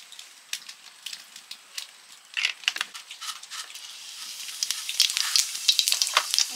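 Mustard oil heats in a pan for Bengali chicken kasha, faint scattered crackles that build into a denser, brighter sizzle over the final seconds.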